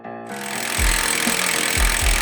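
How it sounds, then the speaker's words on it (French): Demolition work on a fractured wooden roof frame: a continuous loud mechanical grinding drone with repeated heavy low thuds of timber being struck and broken, close up. "la démolition des éléments de bois fracturés peut commencer"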